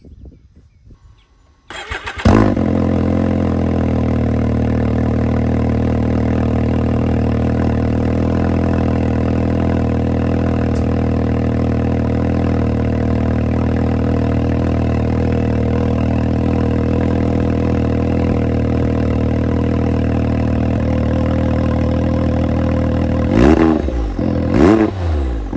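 A Can-Am X3 side-by-side fitted with a full 3-inch Monster Core exhaust cranks and fires up, then settles into a loud, steady, deep idle close by. Near the end comes a quick rev that swells and drops back.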